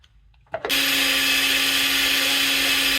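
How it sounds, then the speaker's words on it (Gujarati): An electric grinder blends hummus with a tablespoon of olive oil, starting with a short thump and then running as a loud, steady high whir for several seconds, preceded by a quiet moment. "1 table spoon olive oil add કરીને કરી નાખશું પાછું ગ્રાઇન્ડ."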